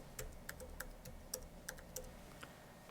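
Quick, uneven keystrokes on a computer keyboard, about a dozen light clicks close by in a quiet room with no talking.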